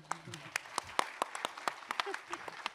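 Scattered applause at an awards ceremony comes as sparse, distinct claps from a handful of people in a hall, irregular and fairly sharp, with talking mixed in.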